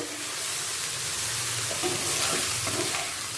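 Pointed gourd (potol) fries in a pan with a continuous broadband sizzle and hiss, moderately loud and even throughout.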